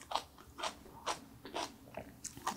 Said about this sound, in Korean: 머위대 장아찌를 먹어볼게요.